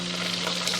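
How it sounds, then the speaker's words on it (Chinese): Garlic pork ribs deep-fry in oil over medium heat, a brief, dense, even bubbling sizzle with no talking. "这个是中火炸了8分钟左右"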